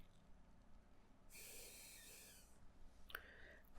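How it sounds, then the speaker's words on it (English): A person breathes heavily in and out through the nose during a close, quiet medical exam, one long hissing breath followed by a shorter sniff. "just breathe quite heavily down your nose"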